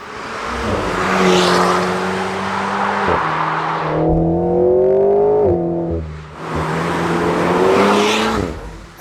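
An Alpine A110 sports car engine revs hard and close, climbing through gears with brief drops between shifts, loud and continuous throughout.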